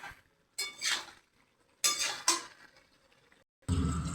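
Pumpkin and prawns being stirred in a cooking pot, a few separate bursts of scraping and clinking from the spoon with quiet gaps between them, close, ending in a louder rush of sizzle.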